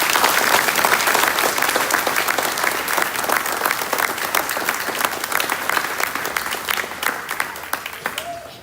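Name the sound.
audience applause at school concert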